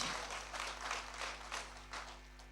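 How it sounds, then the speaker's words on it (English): Faint, distant applause from an audience at a Lagos transit project launch swells and fades in waves over a steady low electrical hum. "If you want to applaud, please applaud."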